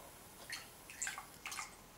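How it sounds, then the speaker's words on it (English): Bereziartua Basque natural cider poured from a height into a glass, giving three faint, brief splashing bursts about half a second apart against a quiet background. "Let's get in a final pour before the final verdict."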